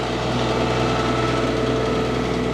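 A 25 horsepower tractor drives a MechMaxx wood chipper in a steady, dense mechanical drone, the engine and chipper running loud and continuous without pause.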